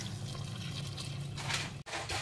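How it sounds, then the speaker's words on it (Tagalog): Water is poured into a cooking pot for Filipino nilagang spare rib soup, a steady rushing splash that runs continuously at close range, dips briefly near the end, then resumes. "Lagyan natin ng tubig."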